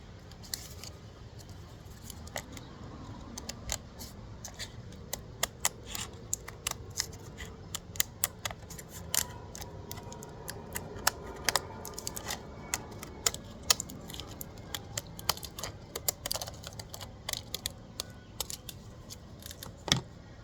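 Scissors cut out a paper shape with a long run of crisp, close snips, repeated irregularly for about twenty seconds. No one speaks.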